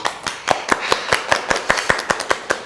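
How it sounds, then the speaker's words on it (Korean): Rhythmic, evenly spaced claps, roughly fourteen sharp strikes at a steady pace, close and fairly loud with a light background wash, from a small group clapping together at a company recruitment Q&A session. "다 같이 박수."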